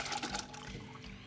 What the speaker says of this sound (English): I'm going to pour it into this measuring pitcher.